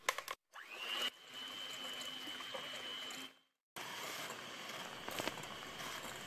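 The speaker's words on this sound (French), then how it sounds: "Et je mélange le tout, je fais blanchir." An electric hand mixer beats eggs with sugar in a bowl, a steady whirring hum with a whine, broken by two short pauses and then resuming at the same steady level.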